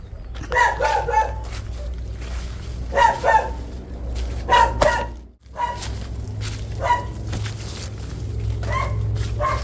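A dog barks in short bursts of several yips and woofs out in the countryside, the calls coming in clusters with pauses between them over a low background rumble.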